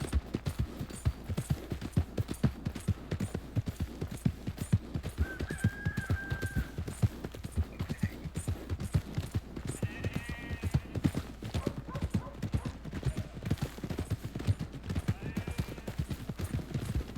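Horses in Red Dead Redemption 2 gallop in a dense, continuous patter of hoofbeats, close and steady throughout, with an occasional faint whinny and a low hum underneath.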